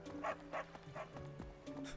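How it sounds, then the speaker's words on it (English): A dog in the video game Fire Emblem: Three Houses gives a run of short, moderately loud barks, about six in two seconds, over steady game music. "Oh, there is a dog here!"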